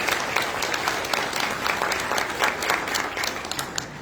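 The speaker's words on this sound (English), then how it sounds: "Give yourselves a round of applause for that." Sustained applause from a crowded room at a fleet awards event, dense and even clapping that stays loud for the whole stretch.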